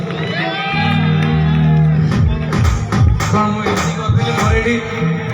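An audience at an Odia romantic song performance claps and cheers for the singer, with shouts and whoops rising over a sustained musical backing in a loud, lively burst.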